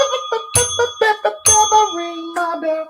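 A bright bell ringing sound effect, in the manner of a bicycle bell, with several quick, loud, close rings in uneven bursts and a ringing tone hanging between them.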